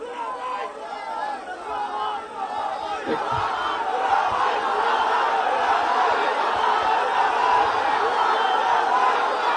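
Large crowd at a canal re-excavation inauguration rally in Sylhet chanting and shouting slogans, a loud continuous roar of many voices throughout with scattered laughter.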